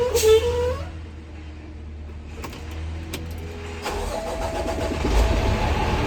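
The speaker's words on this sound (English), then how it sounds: "then we'll go ahead and start the truck up" A dump truck engine cranks briefly, then catches and settles into a steady low idle rumble, loud and close, with a few clicks and rattles from inside the cab and no speech.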